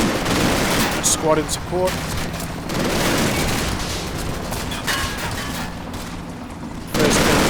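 MG42 machine guns fire in the WWII game Combat Mission: Battle for Normandy, long rattling bursts and distant booms mixed with battlefield noise while someone narrates over them.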